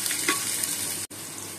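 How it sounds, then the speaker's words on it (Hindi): A steady, close hiss of potato filling with green chili and ginger frying in a pan, broken by one brief dropout near the end; no talking. "हल्का सा भूनेंगे इसको।"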